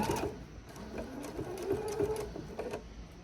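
A sewing machine stitches a seam on a reversible bag, a close, steady mechanical whir with rapid needle clatter running continuously for a few seconds at moderate volume, with no one talking.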